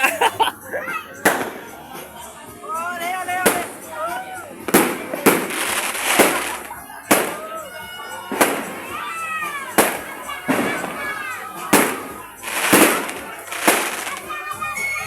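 Loud New Year's firecrackers burst again and again at irregular intervals, sharp bangs close by, with people and children talking and calling out between the blasts.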